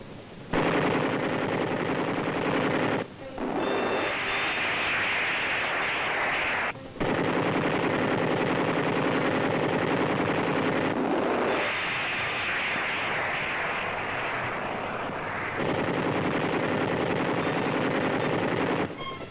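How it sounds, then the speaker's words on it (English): Door gunners aboard a helicopter fire machine guns at enemy positions below in the Vietnam War, a loud, nearly continuous roar of gunfire and engine noise broken by a few short pauses. "enemy positions below are fired upon by our gunners"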